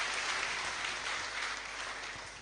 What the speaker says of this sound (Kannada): ಒಂದು ದೊಡ್ಡ ಚಪ್ಪಾಳೆಯನ್ನು ನೀಡಿ